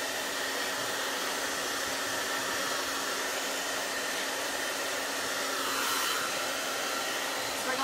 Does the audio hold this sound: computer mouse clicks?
no